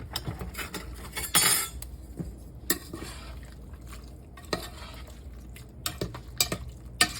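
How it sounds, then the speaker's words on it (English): A spoon stirs soup in a pot, making scattered clinks and scrapes against the metal with soft liquid sloshing between them, close and moderately quiet. "Give it a stir"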